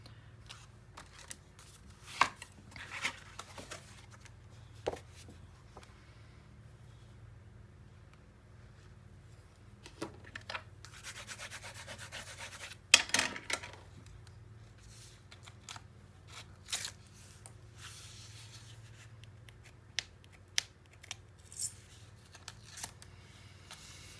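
Scissors snip through paper pieces for a scrapbook mini album, quiet scattered cuts and rustles at close range with pauses between them.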